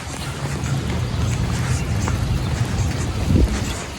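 Rain falls and splashes on a city street in a steady, close hiss, with a brief louder thump near the end.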